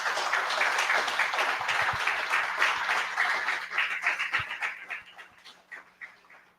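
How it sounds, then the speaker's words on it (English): Conference audience applauds, a steady patter of many hands clapping at moderate distance that thins into scattered individual claps toward the end. "I would like to ask for an applause for them"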